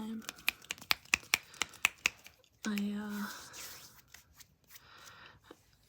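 Sharp finger snaps, about ten crisp evenly spaced clicks close up, then a voice speaks softly.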